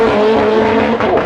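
Track-focused R-version race car driving fast at the Goodwood Festival of Speed, a loud, close, sustained engine roar with a strong steady tone and a hint of tire noise.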